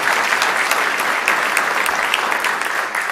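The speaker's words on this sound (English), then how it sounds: "You can clap." Lawmakers and guests applaud during the Nevada State of the State address, a full, sustained wash of clapping from a large room that stays loud and steady before easing slightly at the end.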